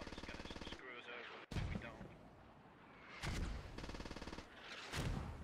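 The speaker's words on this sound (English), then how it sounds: "Mortar caught one off guard." Mortar fire in the military shooter Squad, heard as several heavy booming impacts spaced a second or two apart, with a steady engine-like drone and a voice talking in between.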